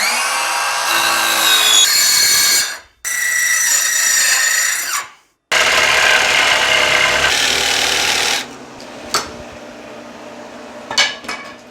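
A power tool cuts a cabinet opening for a wall oven in loud, buzzing bursts with two short pauses. It then falls to quieter handling clatter and a few sharp knocks.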